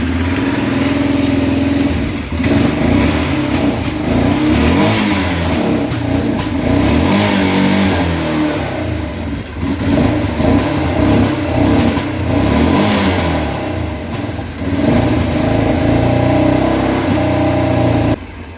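An Arctic Cat 400 4x4 ATV engine runs close and loud with a bad fuel or carburetor problem. It surges and dips unevenly as it struggles to hold an idle, with repeated revs and stumbles throughout.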